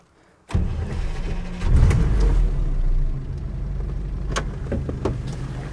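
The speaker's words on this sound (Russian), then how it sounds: "На холостых сейчас поработает." A UAZ 31512 engine cranks briefly, catches and settles into a steady, close idle rumble with a slight surge just after starting.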